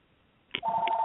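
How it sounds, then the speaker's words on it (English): A short electronic telephone tone, like a dialing beep, cuts in halfway through after near-silence, sharp and steady until the end. "my phone is always ringing"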